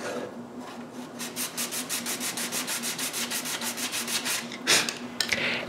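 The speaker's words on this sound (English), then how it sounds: "I have to sand the middle tier with its OG." Sanding the middle tier of a walnut clock case molding with an ogee profile produces quick, rhythmic back-and-forth rubbing strokes, close and fairly loud, with a few sharper scrapes near the end. No one speaks.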